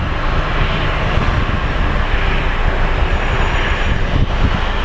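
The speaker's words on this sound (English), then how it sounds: "I believe we have an Embraer coming in" An Embraer jet airliner arrives at Phoenix Sky Harbor International Airport, its engines making a steady, broad roar with a rumbling low end that holds at an even loudness throughout, mixed with some wind noise and no talking.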